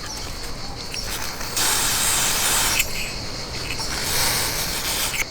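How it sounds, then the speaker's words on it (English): Silicone spray hissing from an aerosol can onto the rubber clutch boot of a Suzuki V-Strom 800 motorcycle, two or three short close bursts with faint handling noise between them. "Optionally, you can use some silicone spray to maintain the rubber."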